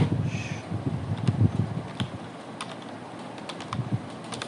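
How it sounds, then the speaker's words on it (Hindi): Keys clacking as someone types Hindi text on a computer keyboard, quick irregular taps close by, with a low hum underneath. "वहाँ आपने संख्या टाइप करनी है"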